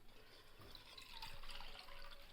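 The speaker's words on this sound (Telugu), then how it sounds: "ఇప్పుడు వాటర్ పోసుకుంటా" Water pours steadily into a pot while making gulab jamun in a home kitchen, a faint, continuous trickle that swells slightly partway through.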